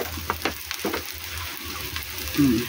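Vegetables sauté in a pan with onion and garlic for ginataang gulay, giving a close, continuous sizzle broken by a few stirring scrapes and clatters, with a brief louder burst near the end.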